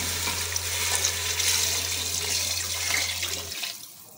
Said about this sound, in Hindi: अब इसमें हम पानी शामिल कर देंगे